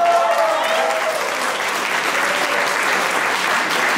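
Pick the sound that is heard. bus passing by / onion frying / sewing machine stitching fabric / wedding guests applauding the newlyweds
wedding guests applauding the newlyweds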